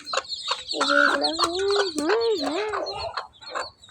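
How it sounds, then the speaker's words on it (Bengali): Caged chicks chirp and cheep in quick repeated calls, close and clear, with a few rising and falling peeps across the few seconds. "এগুলো হচ্ছে মুরগির বাচ্চা খাঁচার ভিতরে বন্দি করে রেখেছে"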